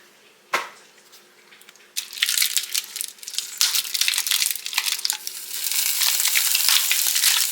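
Cubes of garlic drop into hot bacon grease in a pan and start frying. A single clunk comes first, then loud sizzling that builds steadily with crackles and stirring, and no one speaks.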